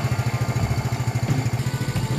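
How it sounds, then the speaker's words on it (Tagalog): A Rusi DL X 110 motorcycle engine idles smoothly nearby, a steady low rhythmic putter with even pulses and no voices over it. "Tingnan nyo na rin po yung pinakantunog ng makina po niya. Smooth po siyang tumunog."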